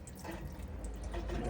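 A cold-water tap in a Carthago Chic E-Line motorhome runs as water is drawn through, giving a steady, soft rushing and trickling stream, close by and without talk.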